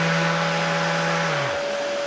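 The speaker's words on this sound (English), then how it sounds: "It turns on the vacuum along with the sander." A Festool sander runs together with its connected dust extraction vacuum in a workshop, a steady loud whine and rushing airflow that holds evenly, then the motor tone drops away as the sander spins down while the vacuum keeps droning.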